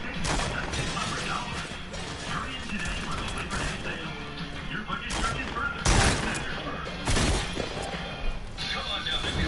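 Rapid bursts of drum gun fire in a PS4 shooter, loud clustered volleys with sharp crashes mixed into busy game noise while players talk over it.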